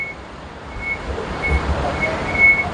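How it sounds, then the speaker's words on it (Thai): A Bangkok BTS Skytrain electric train rumbles nearby with a low, rolling drone, while a thin high beeping tone sounds in short intermittent bursts. "เรามาขึ้น รถไฟฟ้า BTS นะครับ"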